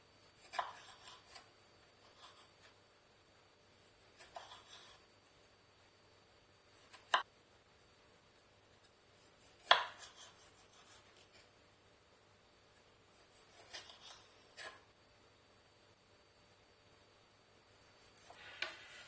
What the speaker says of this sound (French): Alors maintenant je vais couper les tomates en quartiers.